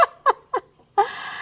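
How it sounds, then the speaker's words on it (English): Chickens at a farm give short, sharp clucks, three quick calls in a row followed by a longer squawk, close and clear against quiet surroundings. "All those chickens are looking at me"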